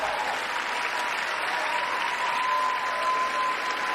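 Sustained applause fills the chamber during the State of the Union address, with cabinet members standing and clapping, a dense steady roar of many hands that holds at an even level throughout.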